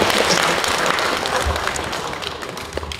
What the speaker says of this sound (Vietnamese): xin mọi người một tràng vỗ tay